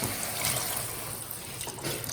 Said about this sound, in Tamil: இதுக்கு தண்ணி ஊற்றி வேக வச்சிடலாம்